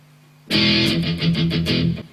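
Electric guitar playing a riff: one ringing open strike, then a run of tight palm-muted chugs in a steady rhythm, close and loud after a quiet start.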